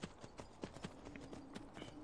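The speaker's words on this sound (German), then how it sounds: "Wir haben jetzt einfach hier so ein Pferd." Horse hooves clip-clopping in Skyrim (Elder Scrolls V, PS3), a quick, quiet run of hoofbeats with a fairly even rhythm.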